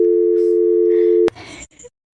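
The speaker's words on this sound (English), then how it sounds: "Dial tone." A telephone dial tone holds a loud, steady hum for just over a second, then cuts off abruptly with a click. Brief rustling and handling noise follow before it goes silent.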